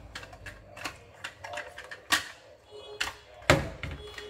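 Folding arms on a Hubsan Zino drone snap open with a series of sharp plastic clicks, several quick light ones followed by a few louder, distinct snaps, close and alone.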